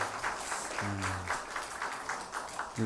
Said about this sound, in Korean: 다시 한번 감사의 박수 하겠습니다